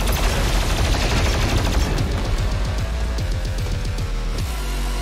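Rapid gunfire from a weapon in the video game Doom Eternal, a loud continuous burst of fast repeated shots filling the whole stretch, with no talk.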